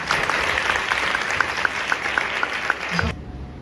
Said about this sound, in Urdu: یسوع کی تالیاں بجائیں